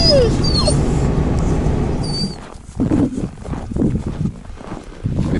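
Dogs heading out on an outdoor walk whimper and yip in short, uneven bursts after a stretch of steady rushing noise with faint high chirps.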